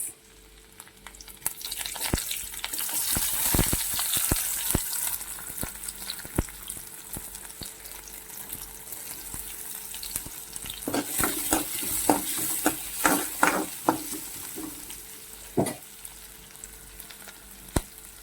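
Garlic and onions fry in hot oil for Hakka noodles, a steady close sizzle broken by sharp scraping stirs and clinks of a spatula against the pan, busiest in the second half.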